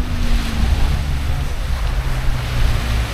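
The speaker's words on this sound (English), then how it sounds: "Just walking by the sea, by this lake." Waves wash steadily onto the shore of Lake Kivu in Rwanda, a constant rushing surf blended with gusty wind buffeting the microphone, with no voices.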